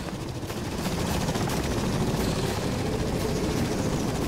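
Helicopter in the video game S.T.A.L.K.E.R. Lost Alpha, a loud continuous rotor thump with a rapid chopping pulse and broadband roar, steady throughout.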